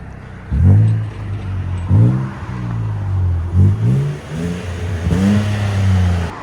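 A Nissan Frontier 3.8L V6 with an aftermarket exhaust revs loud and close in four or five sharp throttle blips. Each rises and then drops back to a deep idle rumble.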